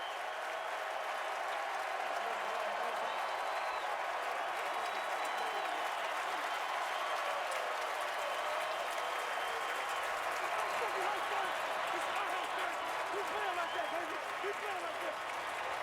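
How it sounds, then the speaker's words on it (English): Big Ten college football stadium crowd, Wisconsin at Michigan State, roaring and cheering steadily as the first half winds down, a dense sustained wall of cheers and applause with no break. "Listen to this crowd as the final seconds tick away the first half."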